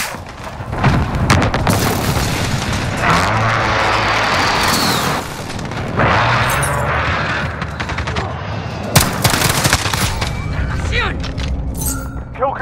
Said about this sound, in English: Enemy position airstrike.